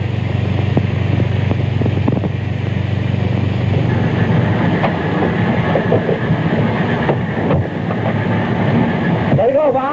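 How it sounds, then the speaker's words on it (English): A train rumbles along in a radio-drama scene, a loud steady low roar with faint rhythmic clatter and occasional hissing bursts, while people talk over it throughout. "we got to get that train out of here quick"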